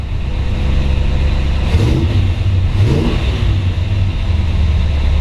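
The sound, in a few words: 1955 Chevrolet 210 350 engine started and running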